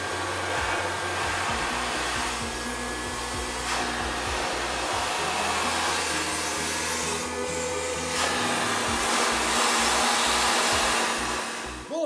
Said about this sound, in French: On chauffe avec le décapeur thermique.